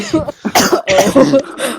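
A person coughs several times in a quick, rough cluster of close, loud bursts, mixed with throat clearing and no speech.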